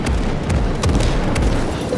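Explosion in the WWII strategy game Call to Arms Gates of Hell Ostfront, a loud continuous low rumble with scattered sharp cracks like a fireworks-style burst, filling the whole two seconds.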